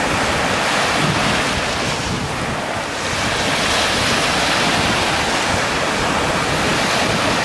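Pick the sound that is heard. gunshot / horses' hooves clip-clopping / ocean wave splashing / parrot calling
ocean wave splashing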